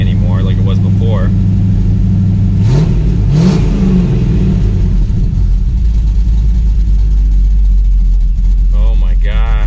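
A cammed Dodge Dakota R/T V8, its misfire now fixed, idles with a loud, lopey low rumble and then revs sharply twice before settling back to a choppy idle; a voice is briefly heard at the start and end.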